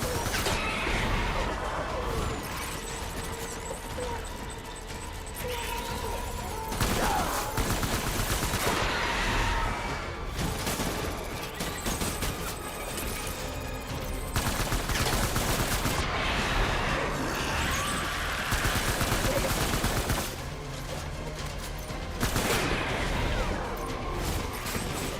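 Bursts of gunfire and heavy crashes in the video game Death Stranding come in dense waves, with rapid automatic fire and loud impacts, pausing briefly between volleys and continuing throughout.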